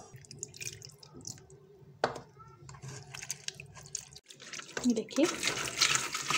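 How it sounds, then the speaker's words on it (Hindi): Water is poured over soaked tamarind pulp and squeezed through a strainer, with small trickles, drips and wet squelches close by while someone talks over it. "थोड़ा थोड़ा सा हम पानी डालेंगे ताकि इसको हम निथारते जाएं"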